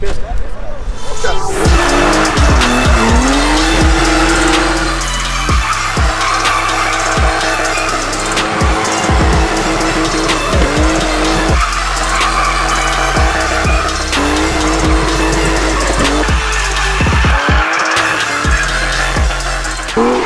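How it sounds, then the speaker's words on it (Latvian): Car being driven on a race track, engine revving up and down through gear changes with intermittent tire squeal and skidding, heard from inside the car with occasional talk over the noise. "Mēs šobrīd braucam trases vidū."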